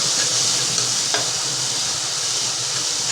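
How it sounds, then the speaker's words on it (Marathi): Green chillies frying in hot oil on a low gas flame for a fasting pulao, a steady loud sizzle with a brief stir or scrape partway through. "मिरची परतून निघायला पाहिजे"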